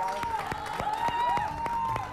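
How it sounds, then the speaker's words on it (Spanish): Studio audience on a television talk show applauds in a brief burst of sharp, rhythmic clapping, with a whistle-like tone and some voices underneath. "Le aplaudimos a Florencia, que estuvo fantástica."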